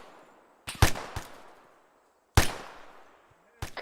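A section opens fire in an Arma 3 infantry battle, sharp, loud close-range gunshots arriving in separated bursts, each with a short echoing tail, with silent gaps between them.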